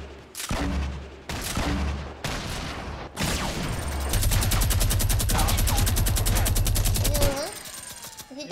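Video game gunfire: a few separate heavy shots, then a sustained rapid automatic burst lasting several seconds, loud and close.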